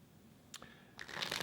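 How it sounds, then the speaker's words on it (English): Quick riffling of tarot cards being shuffled, a short flutter followed by a louder, denser burst of card noise at close range. "A couple more shuffles, and I'm going to go straight into this reading."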